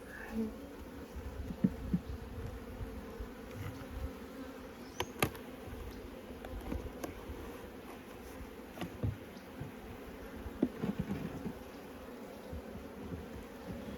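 Bees buzz around an opened hive during a colony split, with frames of bees and brood exposed; a steady, close insect hum holds throughout with occasional louder passes near the microphone.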